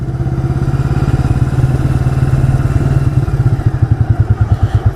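A 1985 Yamaha Virago motorcycle engine idling nearby with a steady low throbbing pulse that turns into more distinct, uneven thumps toward the end, as if the idle speed is drifting.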